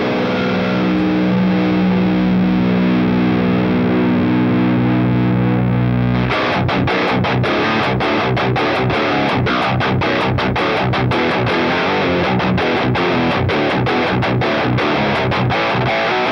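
A heavily distorted electric guitar with a modern metal tone through a Boss Katana Mk II amp. A sustained chord rings at first, then fast palm-muted chugging riffs follow, loud and dense.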